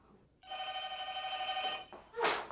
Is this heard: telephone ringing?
yes